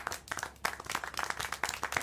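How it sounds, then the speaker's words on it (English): A small group claps in quick, uneven bursts, steady hand claps filling the whole stretch at moderate volume, in the video game Syberia: The World Before. "See, I do get applause."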